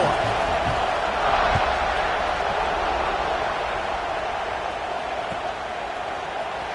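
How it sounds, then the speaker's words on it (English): A football stadium crowd at a Maryland at Georgia game buzzes after a touchdown, a steady, distant roar of many voices that holds evenly throughout. "this crowd is buzzing after that last score"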